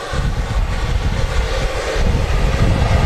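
An Aurigny Embraer jet at Manchester Airport gives a steady, loud engine rumble and whine, with no break across the few seconds.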